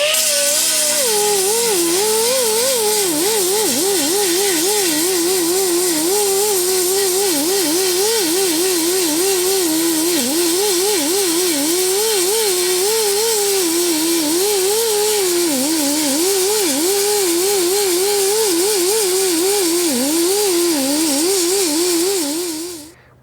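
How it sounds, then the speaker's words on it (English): Continuous whining grind of a power sander on metal, sanding a weld flush while making a gas tank, loud and steady with a wavering pitch, running without pause until it stops at the end. "I'm just sanding off any part that sticks up above the base metal."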